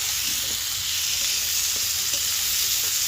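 Ginamos (shrimp paste) sautéing in a pan, a steady close sizzle and hiss of frying with faint scraping of a stirring utensil, continuous throughout without any talk.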